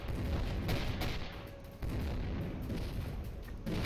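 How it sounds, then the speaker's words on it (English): Rapid sustained chain gun fire in a video game, a dense loud continuous rattle of shots with a brief break partway through. "all I got right now is a 92 damage per second chain gun"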